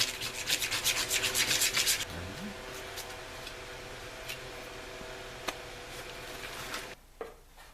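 Hand sanding of body filler laid over fiberglass on a Chevy Astro/GMC Safari van repair: a quick run of loud, rhythmic rasping strokes, then quieter scattered scraping and a few sharp taps.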